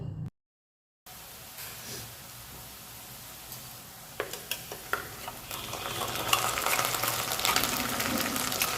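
Jackfruit and potato fry in a pan with a low, continuous sizzle, then a series of sharp utensil scrapes and taps that make the frying grow louder and busier toward the end.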